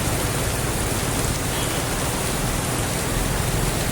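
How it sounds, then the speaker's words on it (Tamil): Heavy rain pouring down near a bus stand, a loud, dense, unbroken hiss of falling water with no gaps and no voices. "ஃபங்க்ஷன் கிளம்புறப்ப தான் பாருங்கள் சம மழை பெஞ்சிட்டு இருக்கு."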